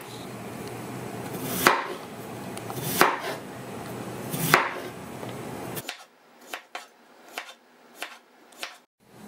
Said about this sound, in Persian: سیب زمینی رو که پوست کندیم به صورت حلقه حلقه